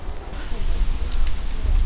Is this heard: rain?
yes